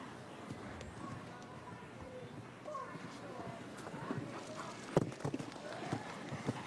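Horse hooves galloping at a show jumping event, a rhythmic thud of strides on the arena footing with louder impacts later on, heard beneath commentary and faint crowd noise.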